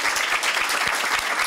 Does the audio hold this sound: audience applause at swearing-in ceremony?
yes